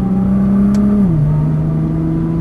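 A Nissan GT-R in second gear on the Dunsfold Park track gives a loud, steady engine drone heard close up, with its pitch dipping slightly partway through and then holding level.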